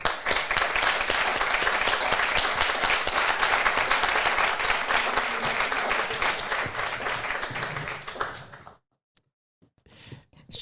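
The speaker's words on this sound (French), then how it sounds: "Je vous demande de faire un tonnerre d'applaudissements à Océane Andrea." An audience at a Paris Marathon celebration applauds loudly and steadily for about eight seconds, a dense wash of clapping that then drops away into near silence.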